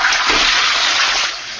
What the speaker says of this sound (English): That was the toilet flushing the shit.